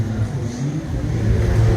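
A motorbike engine revving at a gathering, a mid-pitched hum that rises and swells toward the end, steady and fairly close, with a murmur of background voices.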